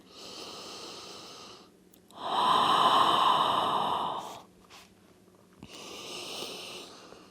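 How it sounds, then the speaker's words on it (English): Slow, deep breaths in prenatal yoga, each a long, airy inhale or exhale lasting a few seconds with short pauses between them, close and clear with no talking. "So find those deep breaths again here."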